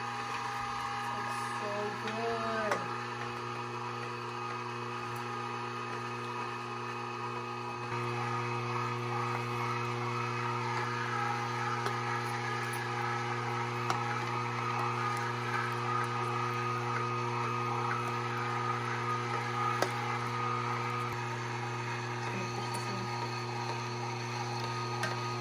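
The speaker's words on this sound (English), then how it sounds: "So without further ado, let's get to grinding." A meat grinder runs steadily through deer meat and fat, giving a continuous motor hum with faint mechanical rattling and no talk throughout.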